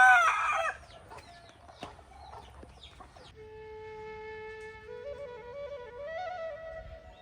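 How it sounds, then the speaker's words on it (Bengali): A native country rooster in a backyard bird shed crows and clucks. A loud, close crow opens, then scattered clucks follow, then a long stepped crowing call. "এটা কিন্তু দেশীয় মোরগ।"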